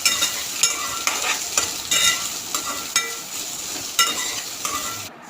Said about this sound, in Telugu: అన్నీ నూనెలో వేయించుకోవాలి.